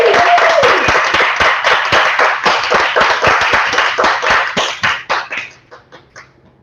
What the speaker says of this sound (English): Would you all please give a rousing round of applause for Linda Joy?